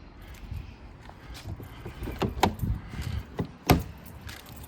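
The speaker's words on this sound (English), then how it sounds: "doors are locking great, and they're opening great" A 2009 Jaguar XJ8 gives a series of short mechanical clicks and clunks from its door locks, close by and irregularly spaced, with one louder thunk near the end.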